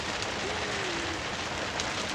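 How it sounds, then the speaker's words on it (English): Torrential rain pounds steadily on a garden shed, a dense, constant hiss and patter filling the space from start to finish with no pauses. "I'm going to try and go home in this torrential rain"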